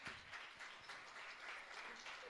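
An audience claps for a group at an inter-church singing competition, a brief faint burst of dense applause heard from a distance.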